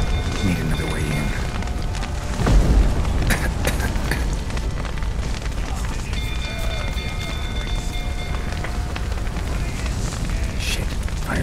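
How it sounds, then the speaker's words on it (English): Fire in The Witcher 3 roars and crackles as a steady, dense rumble throughout, with a heavier burst early on and low ambient game sounds layered in, while a voice speaks over it. "fire's spreading"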